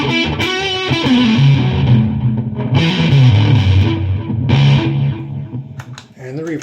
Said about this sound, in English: Here's the delay.